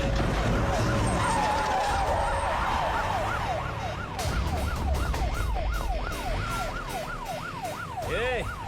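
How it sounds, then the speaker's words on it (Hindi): An ambulance siren wails in a street scene, first as a long rising-and-falling tone, then as a rapid repeating yelp that grows nearer and louder, with a muffled engine and background noise. "ये तो पुलिस का सायरन है।"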